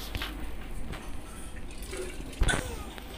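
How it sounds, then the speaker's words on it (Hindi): Water poured into a cooking pot of moong dal and rice for khichdi in a home kitchen, a faint, steady liquid trickle with a brief splashy burst near the end, no talking. "थोड़ा और पानी ऐड कर रही हैं मम्मी।"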